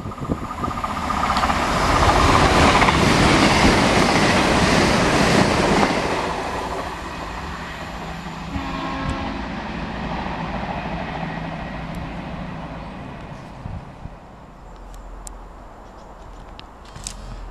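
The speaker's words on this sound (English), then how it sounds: "there's a nice little first Great Western coming up from Oxford, and David should be on here" A First Great Western train coming up from Oxford passes close by at Kings Sutton, a loud broadband rumble and rush that swells over the first six seconds, then settles into a steadier rolling noise with faint clicks as it moves away.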